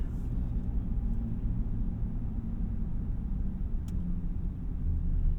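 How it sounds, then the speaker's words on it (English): A 2024 Ram 2500 Rebel with the 6.4L HEMI V8 drones steadily from the cabin while driving, a continuous low engine and road rumble at even loudness with no talk. "V8 sounds very good"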